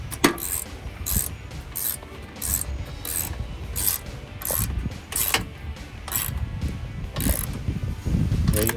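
A 13mm socket ratchet tightens a bolt on a Hemi Charger, clicking in steady repeated strokes with rhythmic rasping pawl bursts, close and clear.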